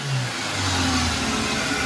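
A 2003 Toyota Vios with a 2ZZ engine and stock muffler revs hard up close, its low engine note rising and holding loud and steady with no talk over it.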